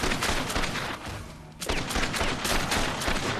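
Rapid gunfire from the zombie action game Dead Rising 2 rattles in dense bursts, with a brief lull in the middle before the shooting resumes, loud and close.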